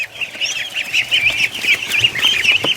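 Young ducklings and a gosling in an enclosure give a steady, busy chorus of high peeping calls close by, overlapping almost continuously with no talk over them.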